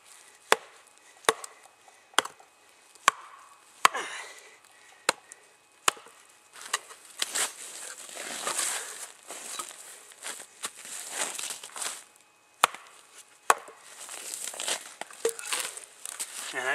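An Ontario Rtak II knife chops into knotty wood, sharp evenly spaced strikes at first, then rougher splintering and crackling as chunks break away, close and loud with no talking.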